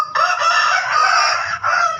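A Bangkok game rooster crows once, loud and close, a single drawn-out call from a coop of chickens.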